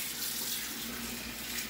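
Tap water runs steadily into a kitchen sink while a utensil used for measuring cocoa is rinsed, a close, even hiss and splash lasting under two seconds with no voices.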